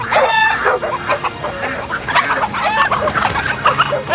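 A dog barking, yipping and whimpering near chickens outdoors, with close, repeated excited yelps and whines that continue throughout.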